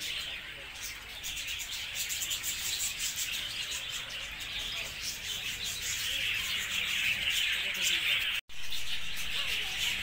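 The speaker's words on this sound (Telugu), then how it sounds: "Love birds play home." Lovebirds in an indoor display at a Mysore museum chirp constantly, a dense, bright chatter of many small birds that runs steadily throughout, with a person talking over it.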